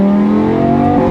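A Lamborghini Gallardo engine revs loudly through its transmission, a close, sustained, harmonic-rich drone that holds steady pitch for about a second before cutting off.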